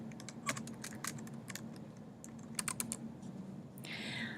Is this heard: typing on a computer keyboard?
yes